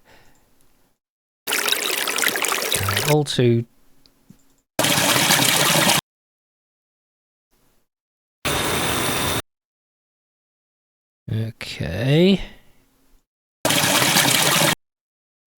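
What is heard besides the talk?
waterfall audio sample played in Bitwig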